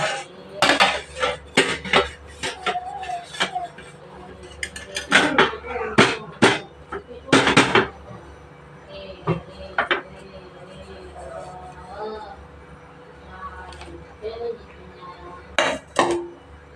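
Repeated sharp metallic taps and clanks, close and irregular, as a rava semolina cake tin is knocked against a surface, with pauses between bursts.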